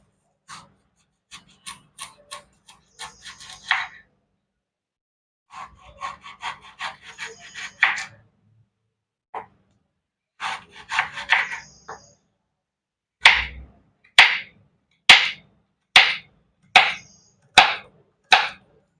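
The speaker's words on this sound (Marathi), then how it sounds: "आता ही बटाटे मी कापून घेणार आहे" Potatoes are cut with a knife on a board in close, crisp bursts of rapid slicing taps, followed by a run of about eight louder, evenly spaced chops.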